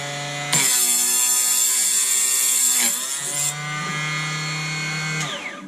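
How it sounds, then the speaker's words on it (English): A small chop saw whines at a steady high pitch while cutting 300 WSM brass rifle cases, its motor tone dipping under load and then spinning back up, close and loud. "Starting with a little chop saw."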